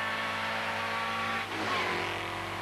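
A Škoda Felicia rally car with a broken rocker arm runs rough on three cylinders during a rally special stage, its engine droning steadily with a slight dip and rise in revs, fairly faint.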